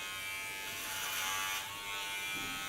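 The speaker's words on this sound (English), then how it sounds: "My clipper even stuck into it." An electric hair clipper cuts through very thick hair while styling an ultra-short cut, giving a steady, close buzzing whir that strains slightly as it works through the dense hair, with no talking.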